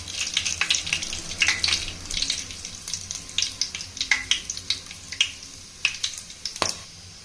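Whole spices (bay leaf, cinnamon, cloves, cardamom and a little fennel) crackle in hot oil for beef biryani, with a steady sizzle broken by frequent sharp pops and spits, close and fairly loud, with no talking.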